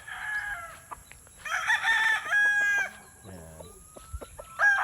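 Hatch grey game fowl cluck and crow close by, several crowing calls overlapping with clucks in a farmyard, while someone speaks briefly.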